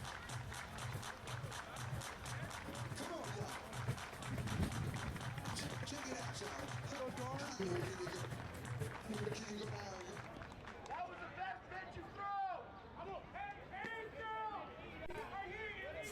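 Baseball crowd in Toronto riding the opposing shortstop, a steady rumble of stadium babble and rhythmic chanting or clapping through most of the stretch, fading under a play-by-play voice near the end.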